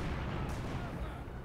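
Counter-barrage artillery fire in Company of Heroes 2 booms in a dense rumbling volley, a distant-sounding roll of impacts, with a commentator's voice faintly underneath.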